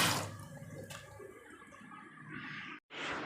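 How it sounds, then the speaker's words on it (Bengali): Fish being washed in water for a singhi fish curry: soft, steady splashing and trickling water close by, with a brief pause near the end before the water sound resumes. "মাছগুলো একে একে সব ধুয়ে নিই"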